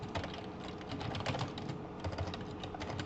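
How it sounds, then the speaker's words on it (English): Rapid typing on a computer keyboard during a game session, a dense patter of light key clicks running continuously, fairly close and moderately quiet. "Bad typing."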